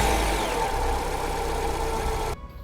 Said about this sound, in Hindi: आपने कार के इंजन की ये वाली आवाज तो कभी ना कभी सुनी ही होगी।